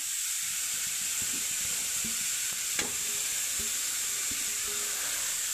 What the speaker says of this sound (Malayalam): ഇനി നമുക്ക് കുറച്ച് കൂമ്പ് തോരൻ നമ്മൾ അരിഞ്ഞു വെച്ചിരുന്ന അത്രയും ഇട്ട് കൊടുക്കാം